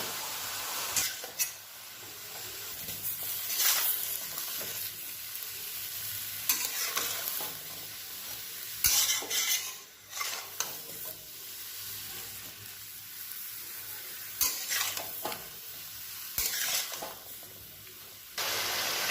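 Bottle gourd greens fry in a pan with a steady sizzle while a utensil stirs them, scraping and clattering at intervals, close up with no voices.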